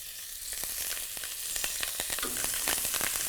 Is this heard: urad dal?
yes